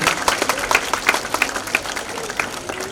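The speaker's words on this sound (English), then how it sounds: "a huge round of applause for your principal, Mrs. Das" Audience applause for a school principal at a school event, a dense crowd of hands clapping steadily and fairly close with overlapping claps throughout.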